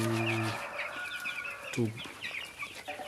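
Broiler chickens and young Kenbro chicks in a Kenyan rearing pen cluck and peep close by, with a burst of calls at the start and scattered chirps running through.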